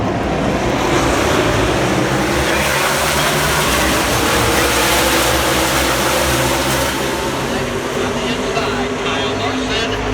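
Stock cars in a NASCAR race roar around the track side by side through turns 1 and 2, a loud continuous wash of engine noise and wind buffeting with a broad crowd-like rumble.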